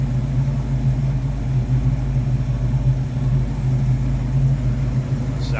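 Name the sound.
1965 Ford Mustang 289 V8 engine running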